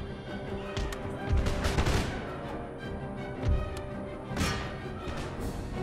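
Musketeer volleys in the video game Empire Total War: repeated crackling gunfire bursts and thuds in several waves over a continuous battle din, fairly soft in the mix.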